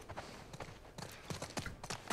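Horse hooves clopping in The Last of Us Part II video game, a series of soft, uneven hoof knocks repeating over ambient game sound, with no talking.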